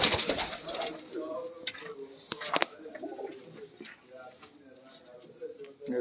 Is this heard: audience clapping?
no